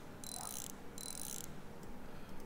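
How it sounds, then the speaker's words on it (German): Bolts being unscrewed in the Bus Mechanic Simulator game while brakes are repaired, heard as two short, bright ratcheting bursts in quick succession over a steady background hiss, followed by a few faint clicks. "werden mal hier die Schrauben lösen"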